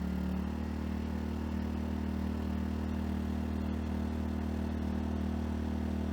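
A Harbor Freight Predator 2000W super quiet inverter generator at fast idle with no load, giving a steady droning engine hum with a low tonal buzz, constant and unbroken throughout, heard alone without talk.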